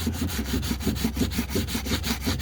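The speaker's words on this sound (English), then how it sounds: "Now I'm using an 80 grit sandpaper" Rhythmic back-and-forth scraping of 80 grit sandpaper sanding a damaged wheel rim coated with glaze putty, close and steady, about five strokes per second with no talking.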